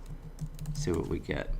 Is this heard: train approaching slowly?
no